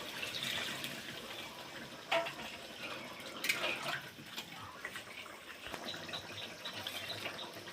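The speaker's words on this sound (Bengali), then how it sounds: "এবার এই গামলিটা ধুয়ে জলটা দিয়ে দেবো।" Water poured from a rinsed bowl into a pot of chicken and potato curry, a steady splashing, running flow with a few sharper splashes, close by and moderately loud.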